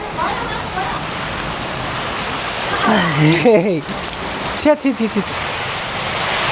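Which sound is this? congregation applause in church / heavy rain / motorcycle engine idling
heavy rain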